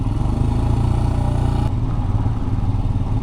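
A Royal Enfield Scram 411 motorcycle being ridden, its engine a steady, rough mid-pitched thrum with wind rush, continuous and loud throughout with no change in pace.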